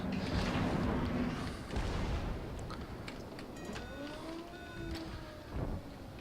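Naval guns on the Kawachi battleship in World of Warships boom in heavy blasts over a constant rumble of engine and sea, with a few lighter distant shots and sharp clicks scattered between.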